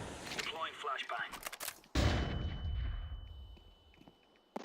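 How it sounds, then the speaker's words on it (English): A flashbang goes off in a tactical shooter match, a sudden loud bang followed by a ringing high tone and a long roar that fades over several seconds, with a player talking over the first moments. "Deploying flashbang."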